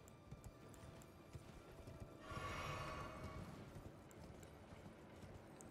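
Horse hooves clip-clop in the video game Elden Ring, a soft steady patter that swells briefly louder in the middle before settling back, heard alone and fairly faint.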